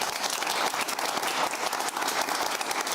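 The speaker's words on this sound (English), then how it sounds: "big round of applause, please, for Winston Marshall." Studio audience applause on a television talk show, a dense, even wash of clapping that stays loud and constant for the whole three seconds.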